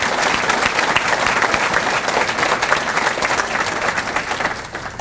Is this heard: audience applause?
yes